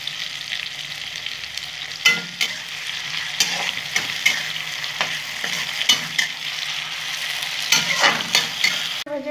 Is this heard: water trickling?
no